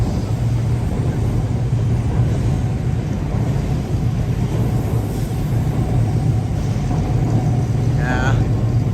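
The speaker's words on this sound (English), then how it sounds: "Sounds of the city are quite nice here, aren't they?" City street traffic in Shimbashi, Tokyo, a continuous low rumble of passing vehicles and engines filling the scene at moderate distance, with a brief higher whine near the end.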